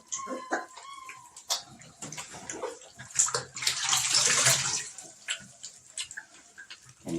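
Water running and splashing while a Bernese mountain dog puppy is bathed, with clicks and handling noises early on and a louder gush of spraying water in the middle.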